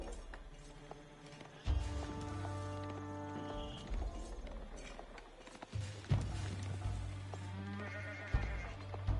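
Sheep bleat in the Age of Empires 4 video game amid game sounds, several short bleats and animal calls over thumping effects and layered tones, loud and close.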